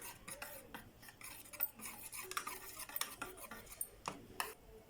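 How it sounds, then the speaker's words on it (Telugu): A utensil stirs milk into cake batter in a bowl, giving faint, close scraping and clinking taps in an irregular rhythm, with no talk. "ఇంకా పాలు కావాలని పోస్తుంటుంది, మిక్స్ చేస్తుంది మళ్ళీ దాన్ని."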